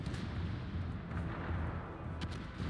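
Naval gunfire from the cruiser Moskva rumbles in World of Warships as deep, continuous booming with overlapping low blasts, loud and unbroken throughout.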